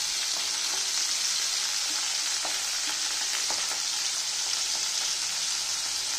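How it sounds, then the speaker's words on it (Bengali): Puti fish frying in a pan give a steady, dense sizzle and crackle of hot oil that runs close and unbroken, with faint scraping now and then. "মাছটা ভালো করে ভেজে নেবো।"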